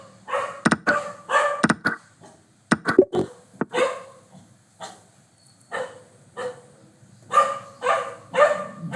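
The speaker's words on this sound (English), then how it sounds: "That's not our dog, street dog." Street dog barking outdoors, with repeated sharp barks in irregular bursts, some in quick doubles, separated by short quiet gaps, fairly close and loud.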